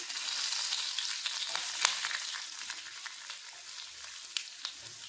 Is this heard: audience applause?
no